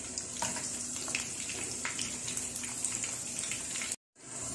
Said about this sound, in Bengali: এই পাশেও আরেকটু লালচে করে ভেজে পরে এটা আমি উঠিয়ে নিব